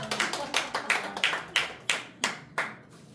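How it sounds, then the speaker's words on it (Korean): Clapping from a children's audience at an elementary school author talk comes as a run of about a dozen sharp, distinct claps that gradually spread out and stop, with no talking. "박수 한번 주세요"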